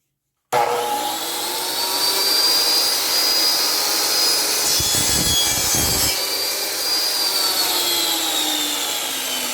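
A Saker miter saw set to a 44-degree angle starts abruptly with a loud high motor whine, then cuts through wood with a rough grinding rasp before the blade keeps spinning alone.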